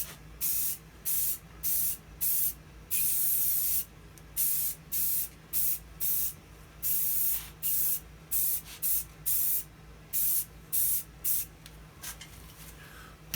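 A spray gun lays a very light dusting coat of paint on a part during a restoration, held well back from the surface, firing in a steady series of short, evenly spaced hissing bursts with brief silences between.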